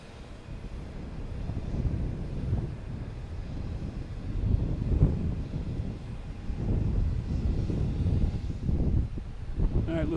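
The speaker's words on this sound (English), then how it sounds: "JetBlue 1025, runway 9 for takeoff" A JetBlue airliner in special New York PD livery taking off from runway 9 at Boston Logan Airport, a broad, steady jet roar heard from a distance, mixed with wind noise and surging in waves.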